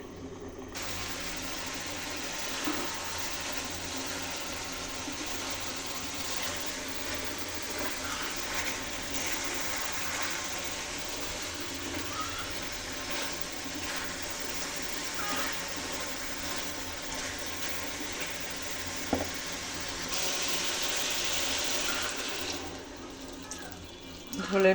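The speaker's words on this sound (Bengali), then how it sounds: "বাদ বাকি কষাই হয়ে গেলে ঝোলের পানি দিয়ে দেবো।" Water is poured into a pot of magur fish and green banana curry as it cooks, a continuous soft splashing and running-water wash that holds steady for the whole stretch, fairly quiet, with a brief louder gush near the end.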